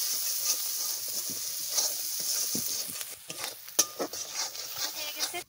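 Spice masala frying in a pan for a jackfruit curry, stirred with a utensil: bright sizzling hiss with scraping strokes and clinks that grow sharper toward the end, no talk.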